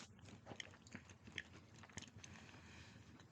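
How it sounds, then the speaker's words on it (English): People chew food close to the microphone, with irregular wet bites and crunches over a low background murmur, and no talking. "Apologies if you hate the sound of us chewing."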